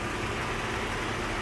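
A Kia All New K7 3.0 engine idling, heard in the engine bay with a steady, low rumbling hum, close and continuous for the whole moment.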